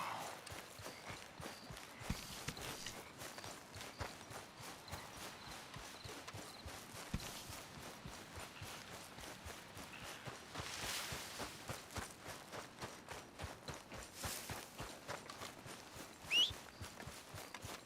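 Steady clip-clop of horse hooves walking in the video game Red Dead Redemption 2, an even rhythmic plod that continues throughout at moderate volume with faint background ambience.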